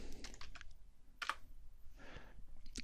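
Keystrokes on a computer keyboard as a search term is typed into a software search bar, a few quiet scattered clicks and short bursts, heard alone and fairly faint.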